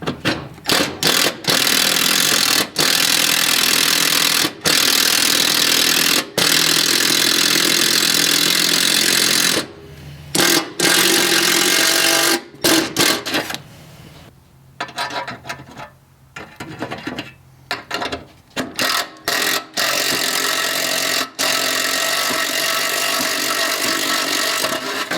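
Power drill boring through a Nissan CA18 aluminum oil pan for -10AN fittings, a loud steady whine broken by frequent short stops and restarts, running close and alone without talk.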